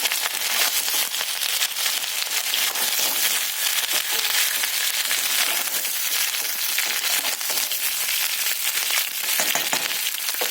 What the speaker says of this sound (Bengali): এই রান্নাতে আমি সবজি বেশি ভাজবো না, একটু হালকা হালকা ভাজছি আর কি